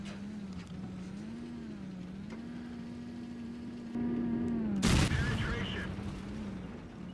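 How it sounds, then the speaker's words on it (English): A droning tank engine in World of Tanks, with sound mods, hums steadily at low pitch, rising slightly, with a sudden loud burst of gunfire midway and faint voices underneath. "You can hear the engine sounds"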